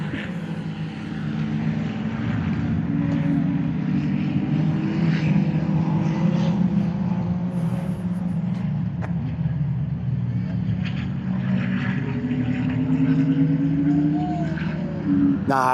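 Ferrari race cars race at Queensland Raceway during the Ferrari Festival, making a continuous engine roar that rises and falls in pitch as cars pass at middle distance, with people talking over it.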